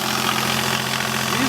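A Takeuchi excavator engine, just fitted with a new starter and running on a low battery, idles with a steady, close mid-pitched throb and faint knocking vibration.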